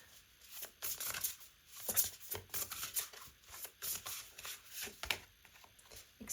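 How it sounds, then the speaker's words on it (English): Cards are shuffled by hand up close, a run of quick papery riffles and flutters in uneven bursts, with no voices. "This is very difficult to shuffle."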